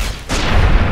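A laser gun fires in Fallout New Vegas, one sharp burst followed by sustained loud crackling energy noise, dense and close, with no talk.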